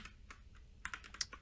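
Keyboard shortcuts are typed on a computer keyboard while building a spreadsheet without a mouse: a quiet, uneven string of soft key clicks and taps, a few slightly sharper presses near the end, with no talking.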